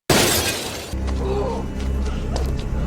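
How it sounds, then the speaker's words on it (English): Glass shatters loudly at once, a bright crashing burst that cuts off sharply, followed by a low rumbling background with faint scattered clinks. "she hears the sound of breaking glass as Jonah fires his gun outside."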